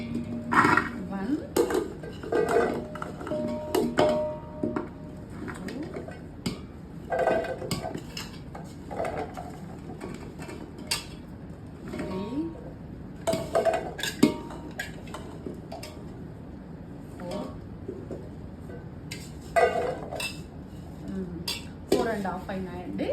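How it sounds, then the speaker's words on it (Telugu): Raw mango pieces for avakaya pickle are scooped with a cup into a metal bowl. Repeated clinks and scraping knocks of vessels sound close by, and someone speaks between them. "ఏదైనా ఒకటి గిన్నె తీసుకొని దీని లోపల ఎన్ని కప్పులు అవుతాయో చూద్దాము"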